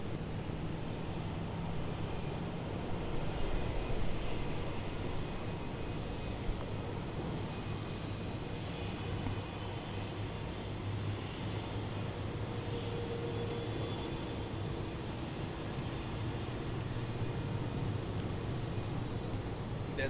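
A Boeing 737-700 airliner taxiing at Brisbane Airport, a low steady engine drone and hum heard from a distance, faint and continuous.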